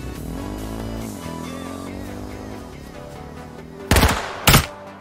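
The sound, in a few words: gunfire in a video game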